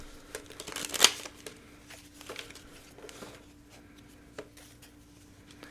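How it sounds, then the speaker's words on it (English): Tarot cards being shuffled by hand, soft riffling and flicking with a sharper burst near the start and lighter papery patter after, close and quiet with no talking. "Let's get you 3 shuffles."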